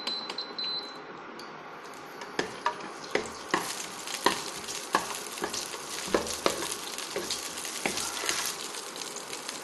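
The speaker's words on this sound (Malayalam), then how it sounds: "നെയ്യ് ഒന്ന് ചൂടായി തുടങ്ങുമ്പോൾ കാഷ്യൂ നട്ടും കിസ്മിസും ഒന്ന് റോസ്റ്റ് ചെയ്തെടുക്കാം" Cashew nuts and raisins roast in hot ghee in a pan, a steady sizzle broken by sharp clinks and scrapes of a spoon stirring against the metal.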